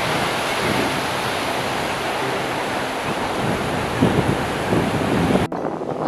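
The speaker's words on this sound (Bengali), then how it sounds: "ভোরবেলার সমুদ্র একদম শান্ত নিরবিলি আর সমুদ্রের খালি কলরব" Early-morning sea surf at Digha beach rolls in as a steady, loud wash of breaking waves with wind buffeting the microphone, a few heavier surges near the end before the sound abruptly cuts out.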